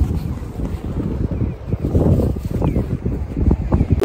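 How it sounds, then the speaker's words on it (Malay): Strong winter wind in snowy Otaru, Japan, roars and buffets the microphone as a loud, continuous low rumble with gusts swelling and easing throughout. "Angin kuat."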